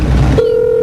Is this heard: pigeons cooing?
no